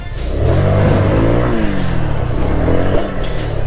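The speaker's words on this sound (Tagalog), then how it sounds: "kung paano natin in-apply yung wheelie sa stock na motor" A stock motorcycle engine revs steadily through a slow wheelie, its note rising and falling across the whole stretch, loud and close, with no voices.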